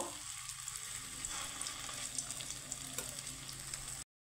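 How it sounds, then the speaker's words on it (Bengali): Paneer kofta balls fry in a pan of oil until reddish-brown, giving a dense, continuous close sizzle with crackling pops throughout before it cuts off abruptly; no voices. "এখানে আমি লাল লাল করে কোপ্তাগুলো ভেজে নেব"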